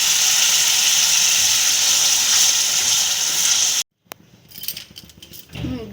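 Water poured onto fried spices in a pan for chhanar kofta gravy gives a loud, steady hissing sizzle that cuts off abruptly after about four seconds, followed by quieter scattered clatter.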